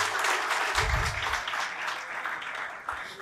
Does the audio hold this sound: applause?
yes